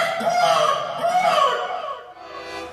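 An angry rooster crows loudly and close by, its harsh call rising and falling across a couple of strained bursts before trailing off, with no other sounds around it.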